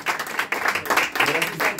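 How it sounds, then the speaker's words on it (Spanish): Audience applause at a birthday party with a mariachi band, clapping in uneven bursts beneath a voice talking over it. "el aplauso para ustedes también que nos ayudaron a cantar"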